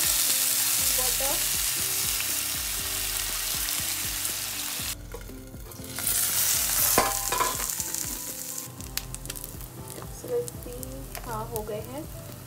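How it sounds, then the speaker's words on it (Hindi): Momos pan-frying in oil with a splash of water added, giving a steady broad sizzle with stirring and clatter from the pan, swelling louder midway, with a voice talking faintly in the background. "मैंने थोड़ा सा ऑयल करके इसको थोड़ा फ्राई कर लिया है।"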